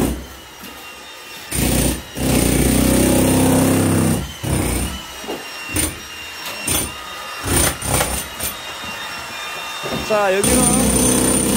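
Hammer drill breaking through a wall of a country house in Sokcho, loud bursts of grinding, rattling drilling that start and stop repeatedly, with short pauses between, and someone speaking briefly between bursts.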